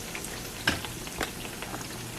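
Plantain slices for tostones fry in hot oil with a soft, steady bubbling sizzle and a couple of brief pops, heard faintly and alone.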